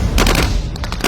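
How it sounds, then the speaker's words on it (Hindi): Rapid burst of gunfire as a sound effect in a Hindi narrated soldier's story, a dense rattle of overlapping shots, loud and close, with no voice over it. "दनादन गोलियां चलने की आवाज"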